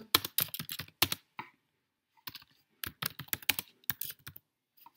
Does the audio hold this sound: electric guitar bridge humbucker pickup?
no